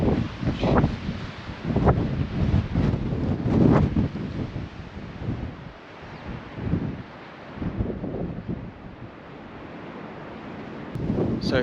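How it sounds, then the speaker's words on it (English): Strong wind gusting outdoors in the Cairngorms of Scotland, buffeting the microphone in heavy, rumbling bursts that swell and ease repeatedly, with no speech over it. "Bit of a windy one."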